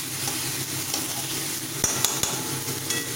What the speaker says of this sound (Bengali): এবার আমি মশলাটাকে একবার নেড়ে নিয়ে